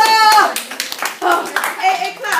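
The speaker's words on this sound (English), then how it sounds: "Applaudis-le. Applaudis le calendrier. Avec enthousiasme." A school French class claps in short, uneven bursts of hand clapping, close and lively, mixed with children's voices.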